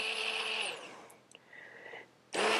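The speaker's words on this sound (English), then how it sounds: "I'm going to use the stick blender and just put it right down in the jar" A stick blender whirs loudly in a jar of egg yolk, cutting out for about a second and a half with faint clinks and a quieter hum before roaring back at full speed.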